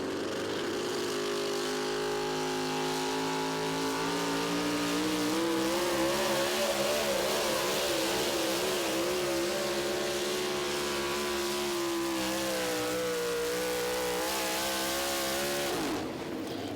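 A pulling tractor's engine roars and revs under full load through a tractor pull run at an NTPA event in Tomah, Wisconsin, loud and sustained, pitch rising and wavering, then cutting off at the end.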